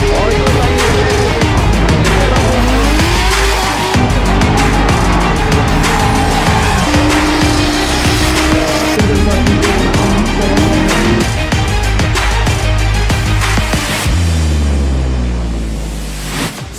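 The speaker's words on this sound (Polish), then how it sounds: "Zaczyna się to, co tygryski lubią najbardziej, czyli jazda w parach." Drift cars run in tandem at a Drift Open round at Motopark Toruń, with engines roaring loudly, revs rising and falling, and tires squealing continuously throughout, close and dense, with no clear talking.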